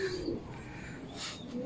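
Soft cooing of a racing pigeon during a derby race loft arrival, a couple of low murmuring coos near the start and end over faint background ambience.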